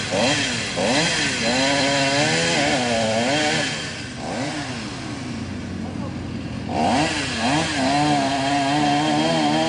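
A loud chainsaw drones while cutting wood, its pitch wavering up and down as it bogs down hard, with a voice talking faintly underneath.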